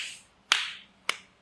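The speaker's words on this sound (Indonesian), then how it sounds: "Nah, sekarang saya tepuk begini." Two sharp pats of a hand on a patient's body during a treatment, evenly spaced about half a second apart, each a crisp slap that fades quickly, close and quiet with no talk.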